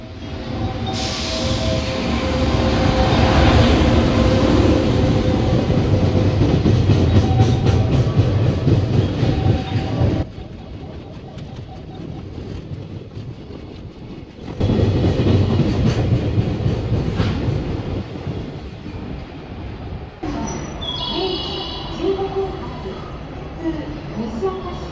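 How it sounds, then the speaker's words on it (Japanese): A freight train passes through Kobe station on the Tokaido Line at night, a loud rumbling roll with rhythmic wheel clatter that fades, surges again, then gives way to quieter platform ambience. "5番線は貨物列車が通過します。"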